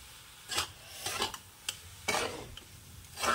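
Coconut and nolen date-palm jaggery filling lightly fried in a pan, heard as soft, intermittent scraping and stirring strokes over a faint sizzle, close and quiet, with no voices.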